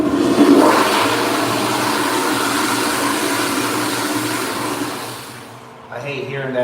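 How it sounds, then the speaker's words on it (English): A toilet flushes in a trucker's bathroom, a loud steady rush of water that runs for several seconds before draining off into quieter gurgling at the end. "Guess I should flush the toilet one more time."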